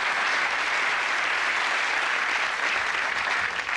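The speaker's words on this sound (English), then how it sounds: "Give them a round of applause." A studio audience at a TV quiz show gives contestants a sustained round of applause, dense even clapping from many hands carrying on unbroken from start to finish.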